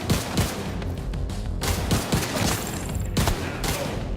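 Rapid bursts of gunfire crack close and loud in The Division 2, with a pressurized fire extinguisher bursting amid the shots, several sharp impacts spaced across a few seconds.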